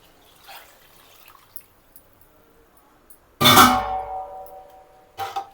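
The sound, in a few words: water poured into biryani pot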